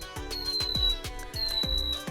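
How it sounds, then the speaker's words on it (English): Waffle maker chiming to signal the waffles are finished, a pair of bright electronic beep patterns with rhythmic clicking pulses, faint and close, with no voices. "So that sound is the sound of our waffles being completely done."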